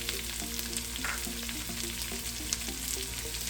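Chopped onion, ginger and garlic fry steadily in a pan of hot oil for a masala sevai breakfast dish, giving a continuous close sizzle with faint stirring scrapes, no voices.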